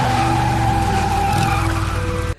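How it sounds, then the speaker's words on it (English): Hagrid's flying motorbike touches down on the ground in a Harry Potter film, a loud sustained skidding roar with tire squeal and engine tone that cuts off abruptly at the end. "when his motorbike lands on the ground, it makes a huge sound."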